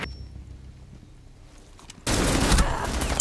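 Rainbow Six Siege gunfire erupts abruptly after a quiet stretch of faint game ambience, a loud, dense burst of rapid shots filling the rest of the moment.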